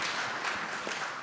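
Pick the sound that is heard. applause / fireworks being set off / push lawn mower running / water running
applause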